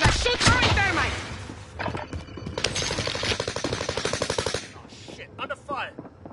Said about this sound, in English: Those bastards are shooting through my thermite!